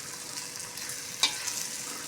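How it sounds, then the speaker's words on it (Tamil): Prawns with salt and masala stirred in a pot for homemade prawn biryani: a steady soft sizzle with one sharp scrape of the spoon midway, close and fairly quiet. "இப்போ இதை வந்து நம்ம கிளறி விட்டுக்கலாம்"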